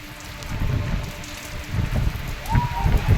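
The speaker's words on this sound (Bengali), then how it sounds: "এতটা পরিমাণে বৃষ্টি হচ্ছে, পুরো ছাদ ভেসে যাচ্ছে।" Heavy rain lashing a rooftop during a sudden storm in Singur, Hooghly district, with gusty wind; a steady, dense patter with rumbling low bursts swelling and easing over a few seconds.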